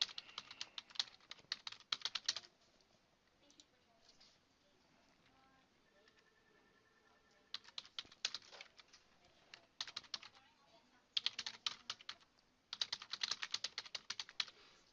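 Typing on a computer keyboard while entering announcement content in web software: bursts of rapid clicking keystrokes separated by quiet pauses, close and clear, with no speech.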